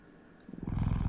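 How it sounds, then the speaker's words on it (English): A cat-like creature in a video game purrs, a close, low rumbling purr that begins after a brief quiet moment and then rolls on steadily and loudly. "The creature purrs as it rubs its side into your arm."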